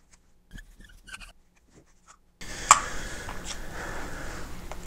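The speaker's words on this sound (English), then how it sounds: "So let me write that down from a different perspective." Pen strokes scratch and rub across paper as notes are written by hand. The short, quiet bursts stand alone at close range, and a steady background hiss follows.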